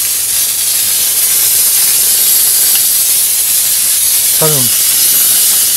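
A blu-ray anion nano spray gun runs with a loud, continuous high-pitched hiss of spray, steady from start to finish, with a brief voice cutting in near the end.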